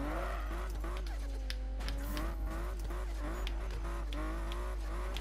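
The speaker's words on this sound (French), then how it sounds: "C'est vraiment horrible de drifter dans ce jeu." Car drifting at night in the video game Need for Speed 2015, a continuous tire squeal with wavering pitch over a steady engine drone, loud and close with no talk.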